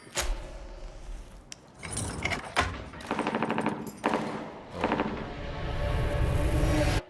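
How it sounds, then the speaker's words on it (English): Bursts of close gunfire crackle in rapid strings, separated by short pauses, with a rising hiss of noise toward the end. "Do you hear that? Close gunshots."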